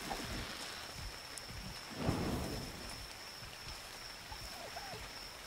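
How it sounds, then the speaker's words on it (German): Steady rain falls in the game Ark Survival Evolved on the Ragnarok map, a constant hiss with a brief louder swell partway through and a faint distant rumble, with no speech. "Weil der Regen ist echt laut."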